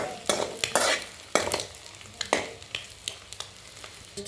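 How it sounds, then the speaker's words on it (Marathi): Masala is roasted and stirred in a pot for egg biryani, with a soft sizzle beneath repeated sharp scrapes and clinks of a spoon against the metal, close and uneven in rhythm. "भात मसाला सगळा भाजून घेणार आणि त्यातच टाकणार शिजायला"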